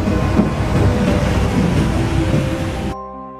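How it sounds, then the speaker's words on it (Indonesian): Heavy rain pours steadily in a horror film scene, a dense loud roar that cuts off abruptly near the end; no distinct thunder stands out. "udara yang sangat dingin disertai hujan yang sangat lebat"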